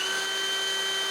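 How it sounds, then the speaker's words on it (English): A drill bores a collet-sized hole through a scrap piece of masonite, a steady, unbroken high whine with a bright tone held at even loudness from close by. "I drill a hole to the size of the collet I'm going to use in a scrap piece of masonite."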